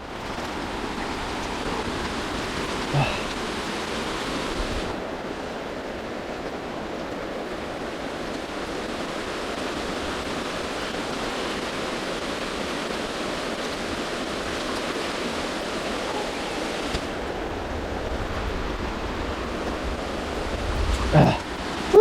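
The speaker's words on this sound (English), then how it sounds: "That was real time crossing a creek, barefoot." Creek water flows and splashes continuously around someone wading barefoot across it in stormy weather, a steady close rushing wash with a few louder splashes near the end.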